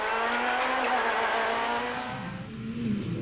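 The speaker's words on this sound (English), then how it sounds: "Johnny Gemmel and Drew Sturrock blast off in the first of the Castrol Toyotas" Castrol Toyota rally car blasting off from the start at the Rally of South Africa, engine roaring loud and close with rising revs and a brief gear-change dip, no voices.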